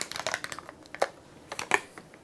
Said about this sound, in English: I'm switching the batteries of my microphone.